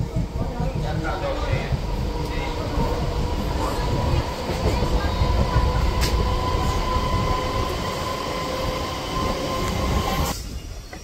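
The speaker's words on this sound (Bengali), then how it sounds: "ট্রেন মেচেদা ক্রস করলো" A Howrah to Digha local train running, a steady loud rumble and rattle of carriages on the rails with occasional wheel squeal, heard from inside the coach with some talk in the background.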